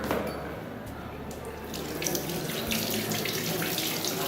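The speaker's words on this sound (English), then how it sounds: "wash the fabric in cold water." Tap water running into a sink while fabric is rinsed in cold water, a steady close splashing stream that continues throughout with no talking.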